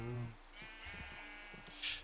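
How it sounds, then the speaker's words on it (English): Sheep in the Minecraft video game bleat in a few quick, nasal calls at moderate loudness, with soft game ambience and small clicks around them. "One of these sheep has to go."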